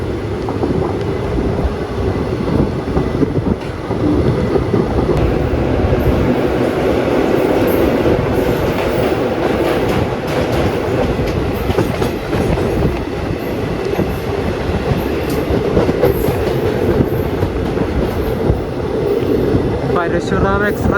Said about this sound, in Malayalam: പരശുറാം എക്സ്പ്രസ് ആണ് പോകുന്നത് കേട്ടോ.